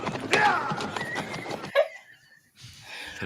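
A horse neighs loudly and its hooves clip-clop as a radio drama sound effect, a strong whinny up front followed by fading hoofbeats and a brief mechanical rattle, with no speech over it.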